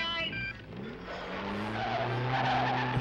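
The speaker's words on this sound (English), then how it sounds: "Here comes a taxi." A cartoon taxi pulls up with a long squealing tire skid and engine roar, the screech building and holding near and loud after a brief bit of music.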